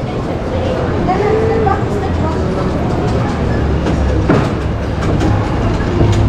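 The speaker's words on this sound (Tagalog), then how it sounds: "Oh, ayun na naman yung train, Pachi." A small ride-on train runs past in a Dubai shopping mall, giving a continuous loud rumble with light clattering. Voices talk over the mall's busy background.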